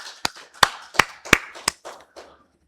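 A church congregation clapping during a Sunday worship service, about six sharp claps in an even rhythm that fade out toward the end, nearby and with no talk.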